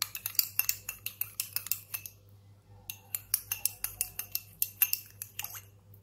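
A metal spoon clinks rapidly against a glass while stirring honey into water, a string of bright, close taps with a brief pause midway.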